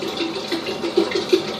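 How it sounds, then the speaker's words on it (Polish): Bottled water poured into a jug over strawberries for a sourdough starter, a soft continuous trickle with small gurgling splashes, close and quiet, no talking. "Ja dodaję tym razem wodę po prostu z butelki"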